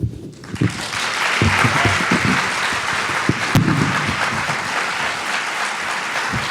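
An audience at a 2018 36th General Assembly District debate bursts into sustained applause, a dense wash of clapping that holds steady and loud throughout.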